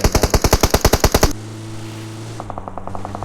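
Automatic gunfire in PUBG Mobile, a loud rapid burst of about a dozen evenly spaced shots, then a quieter, more distant stream of fire, with no voices.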